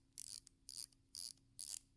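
The rotor of a Liv P51 automatic pilot watch movement whirs in four quiet, evenly spaced ratcheting bursts, faint and close up.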